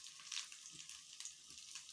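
Oil heating in a kadhai for tempering gives off a soft, steady sizzle with light crackle, faint and close, with no talking.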